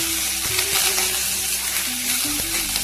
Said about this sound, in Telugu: కొంచెం కరివేపాకు వేసుకోవాలండి.